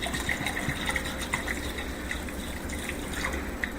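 Water poured into a pot of simmering beef stew on a hob, a soft steady gushing and filling sound with faint splashy detail, fairly quiet and close, with no talking.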